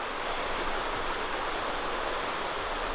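A river rushes past the campground in Zion National Park, a constant broad hiss of flowing water, close and even in loudness, with no pauses or voices.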